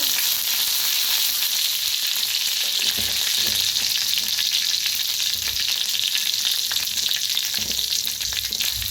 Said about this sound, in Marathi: आता थोडंसं जिरं टाकूया आपण फोडणीसाठी